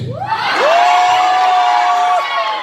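A young crowd at a church youth meeting shouts hallelujah together, a loud, close, drawn-out collective cry held for nearly two seconds amid cheering and whoops.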